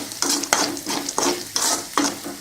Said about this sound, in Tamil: நல்லா கலக்கி விட்டுடுங்க